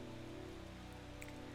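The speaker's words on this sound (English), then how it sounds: "I like the music, and then like the rain" Steady, soft rain patters continuously in the ambient soundscape of Strange Horticulture, a low, even hiss beneath a faint musical drone.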